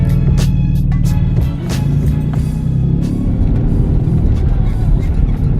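Steady low engine rumble and road noise from inside a Hyundai Genesis Coupe cruising through a neighborhood after rear end link and balance bar work, constant and close with faint rattles over the drone.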